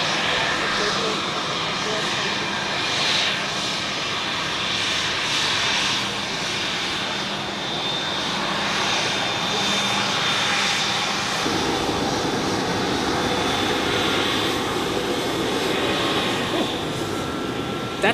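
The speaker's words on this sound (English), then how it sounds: "here we have the Global Express," Bombardier Global Express business jet taxiing close by at Zurich Airport, a steady loud jet engine whine and rumble holding throughout, with a thin high tone riding on top and the low roar growing fuller near the end.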